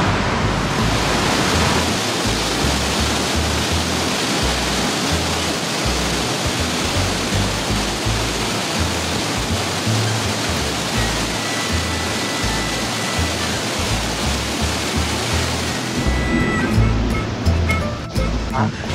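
A powerful waterfall roars with rushing water, a loud continuous broadband wash heard close, easing slightly near the end, with a voice faintly under the roar.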